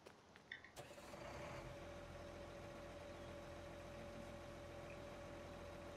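Combine harvester engine in Farming Simulator starting up after a brief quiet moment, then settling into a steady, low, droning idle hum.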